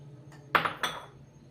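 A few light clinks and taps as finely chopped onion goes into a bowl of bottle gourd and paneer kofta mixture, three quick knocks of a utensil against the bowl, faint and close.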